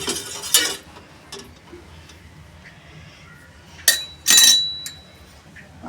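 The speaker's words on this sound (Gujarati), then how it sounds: "ભાતમાં આપણે મીઠું નાખીશું અને એને હવે આપણે હલાવી નાખીશું" A spoon stirs salted cooked rice in a pot, making several light metallic clinks and scrapes in short bursts, with quieter pauses between them.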